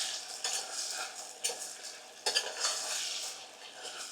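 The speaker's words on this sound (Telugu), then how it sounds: "ఒకసారి కలుపుకుందాం" Chicken with fried onions stirred in a pot for quick cooker biryani, a gentle sizzle under a spoon scraping and clinking against the metal in uneven strokes, fairly quiet and close.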